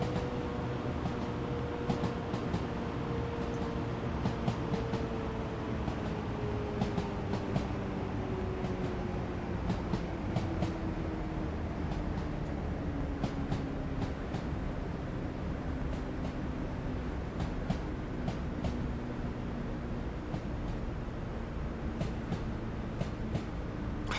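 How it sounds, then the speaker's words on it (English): A train in the Train Simulator 2021 video game rolling over unwelded track, a low steady rumble and drone with regular sharp clickety-clack beats from the rail joints repeating through the run. "See, they haven't got welded track either. I missed that clickety-clack."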